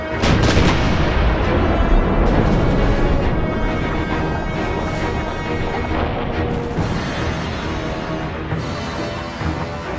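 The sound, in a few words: Point Nepean coastal gun firing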